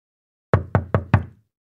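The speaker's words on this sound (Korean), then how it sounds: "그때 문을 두드리는 소리가 또 들렸어." Four sharp, evenly spaced knocks on a wooden door, close and loud, rapping in quick succession before silence returns, part of a narrated fairy tale about a frog prince.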